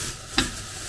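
Shredded cabbage is stirred while it fries in a small cooking pot, giving a soft continuous sizzle with one brief scraping stir in the middle; no one speaks.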